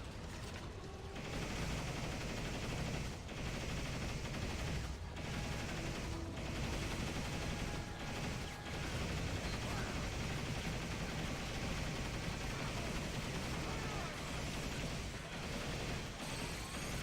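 Sustained assault rifle fire from a video game, a dense, continuous clatter of rapid shots with crashing impacts, loud and close throughout with brief gaps between bursts.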